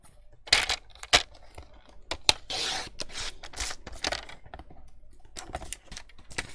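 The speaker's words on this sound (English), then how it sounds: "I'm going to get my big paper trimmer out and trim all of those sides down." A large paper trimmer slices vintage lace vellum and paper sheets, giving irregular sharp clicks, taps and brief scraping slides, close and fairly quiet, with no voices.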